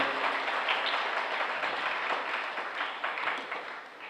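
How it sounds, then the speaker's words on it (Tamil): A church congregation claps together to welcome priests at a novena mass at a shrine, producing a steady, dense wash of applause that holds for about four seconds and eases slightly toward the end, with no speech over it. "வருக வருக என்று நாம் கைத்தட்டி நாம் அன்போடு வரவேற்போம்"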